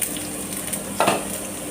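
Stuffed bitter gourd fries in a pan with a steady, close sizzle and a brief scraping stir near the end.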